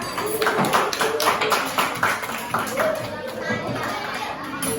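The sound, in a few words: classroom applause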